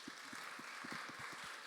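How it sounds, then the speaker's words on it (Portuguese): A school audience at an entrepreneurship panel, Colégio Adonai, claps steadily for nearly two seconds, dense but faint and distant, with a few low thumps mixed in. "Uma salva de palmas para ela."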